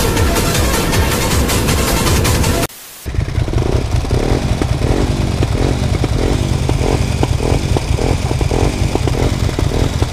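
A loud Euro 4 road-legal motorcycle roars close by, its engine droning steadily before a brief cutout, then returning with a rapid, pulsing rev that carries on to the end.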